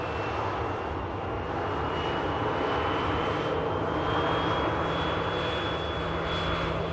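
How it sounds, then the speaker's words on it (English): A Ryanair Boeing 737 jet taxis past the runway visitor park at Manchester Airport, its engines giving a steady loud roar with a sustained high whine layered on top, continuous throughout with no speech. "Ryanair 737. Taxiing past us here at the runway visitor park."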